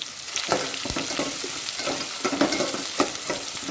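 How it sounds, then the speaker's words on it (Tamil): Onions and curry leaves sizzle in hot oil in a pan for a chicken curry while a spoon stirs them, giving steady frying hiss broken by several sharp scraping clicks, close and alone. "வெங்காயம் கொஞ்சம் வதங்கணும், மெரூன் கலரில் வந்தோடனே பார்த்தீங்கன்னா ஒரு கொத்து கருவேப்பில்லை அப்படியே ஃபுல்லாக"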